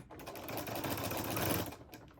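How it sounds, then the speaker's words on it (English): A sewing machine back tacking through fabric and shelf liner for a DIY jar opener, running in a steady rapid whirring stitch burst for about two seconds, close and fairly quiet. "I would also recommend back tacking and then going off the end."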